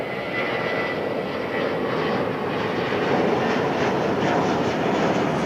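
An Iberia Airbus A350 airliner taxiing at Heathrow Terminal 5 gives a steady, loud jet-engine roar and whine that holds constant throughout, with no voices.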